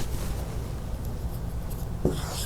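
Pen or marker writing out an economics equation on a board or page, a steady scratchy stroke sound running throughout at close range with a sharper tap near the end, no speech.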